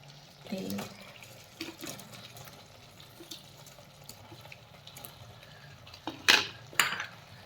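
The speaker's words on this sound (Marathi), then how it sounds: "ग्रेव्ही छान परतून घेतली की त्यामध्ये आता आपण बनवलेले मंचुरियन टाकून घेऊयात" Fried veg Manchurian balls tipped into gravy in a pan and stirred, soft scraping and clinks of a spoon on metal with a couple of louder knocks near the end, close and fairly quiet.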